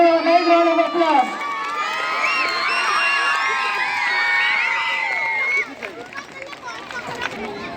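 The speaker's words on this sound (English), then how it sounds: "Give a big round of applause." A crowd of schoolchildren at a Children's Day celebration after a championship cup win, cheering, shouting and whooping loudly together, the excited voices tapering slightly toward the end.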